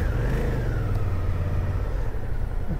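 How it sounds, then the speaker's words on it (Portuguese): Engine of an insecticide fogging car spraying against dengue mosquitoes, a steady low mid-pitched drone that runs unbroken and fairly close, with no voices over it. "Daqueles carros fumacê, né? Que fazia tempo que eu não via isso."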